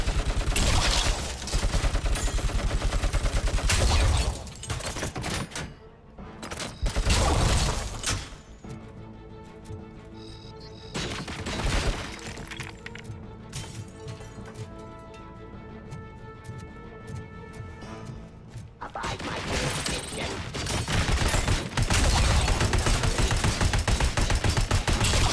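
Heavy gunfire from a recoiling weapon in Robocop Rogue City, loud bursts of rapid shots broken by quieter stretches carrying tonal game music and effects, with the shooting picking up again strongly toward the end.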